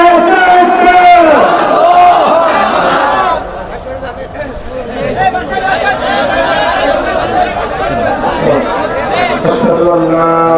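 A large crowd at a religious gathering in Jessore shouts back in unison to a takbir call, loud massed voices rising in repeated chanted waves with a leader's voice over them.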